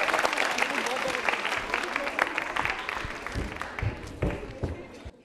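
An audience at a school quiz show applauds a contestant, a busy patter of clapping that starts strong and thins out, with voices talking over it.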